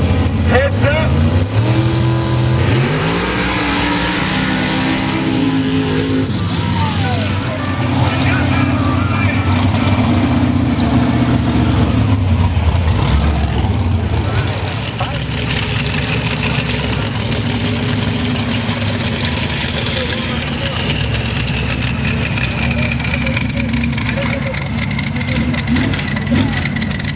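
A twin-turbo small-block Chevrolet mega truck at sand drags in Melbourne, Florida, revs loudly with rising engine tones, then settles into a sustained roar, while a voice talks over it.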